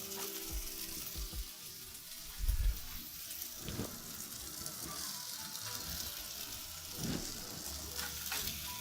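Smash burger patty searing with mustard on a hot surface, a continuous soft sizzle and crackle with occasional scraping stirs and a brief low thump, fairly quiet and without talk.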